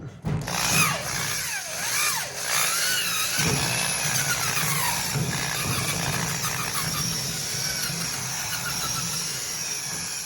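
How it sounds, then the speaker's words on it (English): Drilling on the straw spreader of a Gleaner R72 combine, a steady high-pitched whining squeal of a power drill biting into metal, running continuously and close with shifting pitch, no talk. "I'll get the other 3 drilled out"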